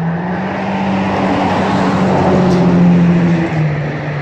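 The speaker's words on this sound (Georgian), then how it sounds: "გიოს მანქანაა ესა" Gio's car runs close by with a loud, steady engine hum that swells slightly before easing back.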